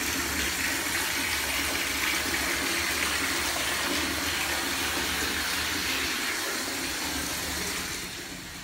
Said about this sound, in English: Let the hot tub go.